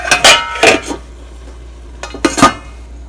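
A lid being set onto a pot of cooking spinach and potatoes, two pairs of sharp metallic clanks close by, separated by a brief quiet gap.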